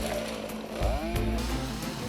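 A chainsaw cuts through large mature oak trees at a hillside logging site, its engine droning steadily and loudly, with pitch rising and falling as the saw bites into the wood.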